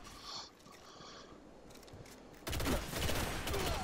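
Quiet rapid bursts of Apple Of Discord pulse rifle fire in Destiny, faint at first and then a much louder, denser stretch of shots in the second half, with no talk.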